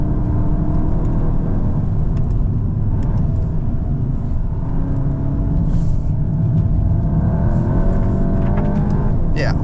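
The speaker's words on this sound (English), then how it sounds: "Awesome pull in 3rd gear actually for this size engine." Engine pull of a turbocharged 2025 Volkswagen Golf GTI accelerating hard in third gear, a steady loud cabin rumble rising gradually with boost, with a faint voice under it.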